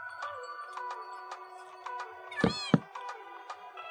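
In the video game Minecraft, a cat gives a few short, clear meows about halfway through, heard over a steady tonal game soundscape with regular soft ticking sounds.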